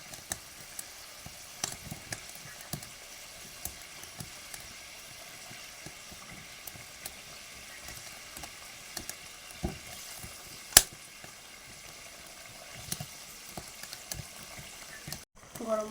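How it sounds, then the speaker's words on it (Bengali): Fish curry gravy with raisin paste bubbles in a pan, a faint, steady simmering crackle with scattered soft pops and clinks, continuing quietly throughout. "ঝোল ফুটছে, ঝোলের মধ্যে মাছগুলো দিয়ে দেবো"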